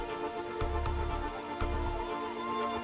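Rain falls steadily on a surface, producing a continuous patter with low thumps throughout, apart from any voice.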